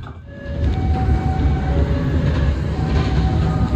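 A passenger train running on rails as it approaches Cikampek station, near a junction with lines from Cirebon and Surabaya: a steady, loud, dense rumble with low wheel noise and faint tonal whines throughout, no voices.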